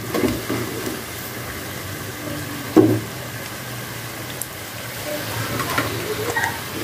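Cireng, Indonesian stuffed tapioca fritters, frying in hot oil, a soft continuous sizzle with occasional stirring clinks and scrapes.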